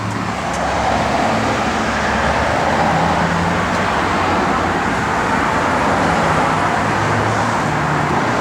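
A 1965 Ford Mustang cruises along a road, its engine and tire roar a steady, close broadband rumble that holds evenly throughout with no speech over it.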